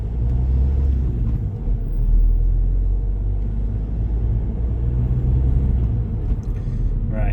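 A car pulls away on a hilly urban driving test route in Bolton, its engine rumbling low and steady under road noise as it moves off, heard from inside the cabin.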